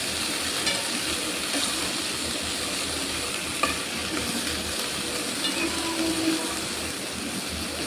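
Peanuts with their skins on frying in a pan, giving a steady, dense sizzle with occasional stirring scrapes throughout.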